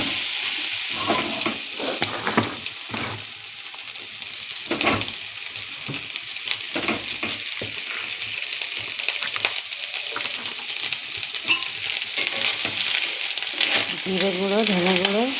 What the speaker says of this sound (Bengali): ভাত কটা একটু ডিম দিয়ে আর ভেজে দিলাম